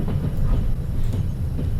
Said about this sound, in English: We'll just have to stop the train here discreetly in a few moments.